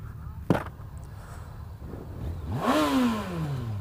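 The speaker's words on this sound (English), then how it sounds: "It will definitely rev up though." A 2017 Yamaha FJR1300 motorcycle engine, with a sharp knock early on, then the engine revs up from about midway, its pitch climbing and the sound swelling before it holds at a moderate level.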